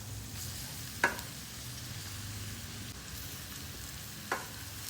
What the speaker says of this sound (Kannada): ಈಗ ನಾವು ಬೀಟ್ರೋಟ್ನ ಏನು ತುರ್ಕೊಂಡಿದ್ವೋ ಅದನ್ನು ಹಾಕ್ತಾ ಇದ್ದೀವಿ